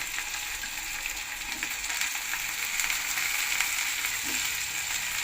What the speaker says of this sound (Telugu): ఇప్పుడు మనం దీంట్లోనూ తరిగి పెట్టుకున్న వంకాయలు వేసుకోవాలి.